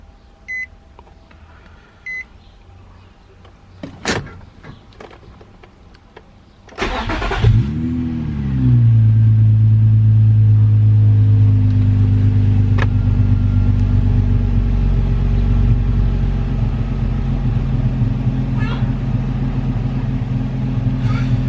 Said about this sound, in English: Now we gotta start it up.